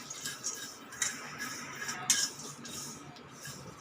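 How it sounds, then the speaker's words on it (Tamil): Sesame seeds roast in a pan, giving faint scattered crackles and small ticking pops over a steady hiss, with a sharper pop standing out near the middle. "எள் லைட்டாக படப்படன் சவுண்டு வந்து ஆஃப் பண்ணிடலாம்"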